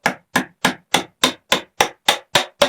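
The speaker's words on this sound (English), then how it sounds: "I'll use a piece of dowel to stuff it down in. And I'll use a mallet" Mallet pounding a wooden dowel to pack stuffing into a leather water bottle: ten sharp, evenly spaced knocks in a steady rhythm, close and loud with silence between strikes.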